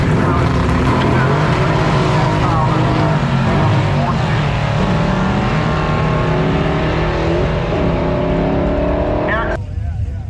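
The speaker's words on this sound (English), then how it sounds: "Then we got the Monte Carlo versus the 4th gen Pontiac Firebird." Drag racing at Byron Dragway with a 1986 Chevrolet Monte Carlo against a fourth-generation Pontiac Firebird LT, loud sustained engine roar with rising tones under a commentator's voice, cutting off sharply near the end.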